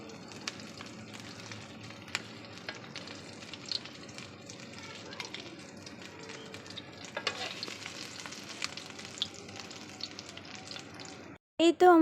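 An egg fries in a pan as part of a rice and fried egg meal, giving a steady, moderate sizzle that runs throughout, with a few faint clicks and scrapes over it and a brief louder clatter at the very end.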